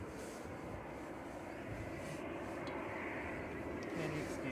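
EasyJet Airbus A320neo at Manchester Airport, a faint, distant, broadband rumble of engine noise that stays steady and continuous throughout.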